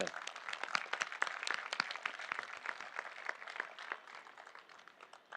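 Applause from a festival audience at the Karachi Literature Festival, a dense crowd of hand claps sustained throughout and fading slightly toward the end.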